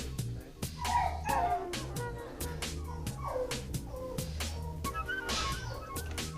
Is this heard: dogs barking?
yes